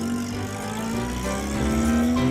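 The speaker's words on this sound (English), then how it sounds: "the buses roar past full of passengers" Buses roaring past on a road beside a railway, a steady loud engine drone with a rising tonal whine that swells slightly toward the end, no voices.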